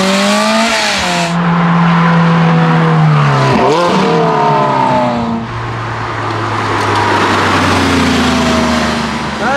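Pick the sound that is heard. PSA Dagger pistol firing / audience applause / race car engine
race car engine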